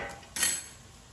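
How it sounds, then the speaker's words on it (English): Delicata squash pieces get tossed in a metal air fryer basket, one short close clattering rattle that quickly fades. "let's take out the air fryer basket and let's toss the squash pieces so they cook more evenly"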